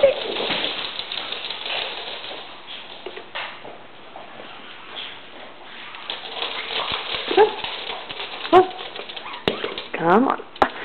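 A playful dog scrambles and skitters nearby with scattered thumps and yips, while a person talks throughout and birdlike cooing sounds turn up now and then.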